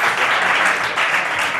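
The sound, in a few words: applause for the coaches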